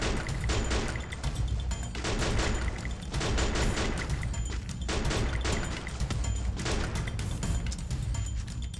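An M60 machine gun with a snow skin fires in Free Fire, loud repeated bursts of heavy shots with brief pauses between volleys.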